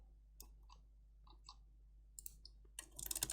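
A computer mouse clicks while a stock sell order is placed on a trading platform, giving a few quiet, scattered clicks in near silence, then a quick burst of rapid clicks at the end.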